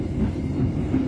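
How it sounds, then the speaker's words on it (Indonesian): Matarmaja passenger train arriving at Blitar station, heard as a brief, steady low rumble close by with no talk over it. "kereta api Matarmaja yang saya naiki saat ini telah tiba di stasiun Blitar"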